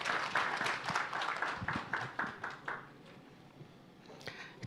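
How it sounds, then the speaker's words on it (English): A crowd applauds steadily, dense clapping that thins and fades out over the last couple of seconds, with a few scattered claps at the end. "Please join me in a round of applause as we welcome her to the stage"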